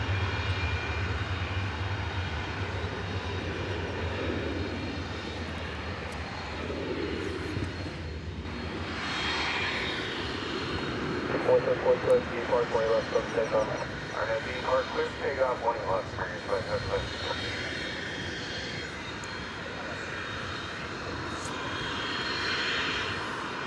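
Aircraft engines roar at DFW Airport as a steady, broad rumble that swells and fades over about twenty seconds, with a person talking over it.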